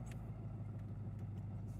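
Triumph Stag V8 car cruising at steady speed in third gear with a three-speed automatic gearbox, a low, even engine drone heard from inside the cabin, quiet and constant, with faint ticks and no talking.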